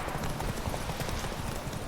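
Roach, Geralt's horse in The Witcher 3: Wild Hunt, galloping with a steady rapid clatter of hooves that carries on throughout over a busy background.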